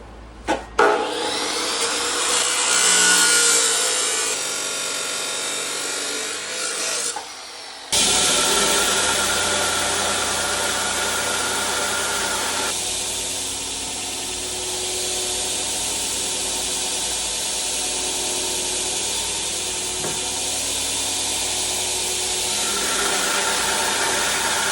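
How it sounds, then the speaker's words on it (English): A steel part for a 1930s manure spreader being cut and ground to size in a workshop, a loud, steady, harsh power-tool whine that runs almost the whole time after a brief start and a short pause. "I'm going to cut it just a touch long and grind it down to final size"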